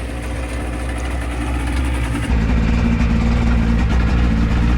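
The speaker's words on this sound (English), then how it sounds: "I'm gonna let the engine get all that water out before I take off." A mini jet boat's engine idles on a remote river, a steady low rumble that steps up slightly louder partway through, running alone without talk.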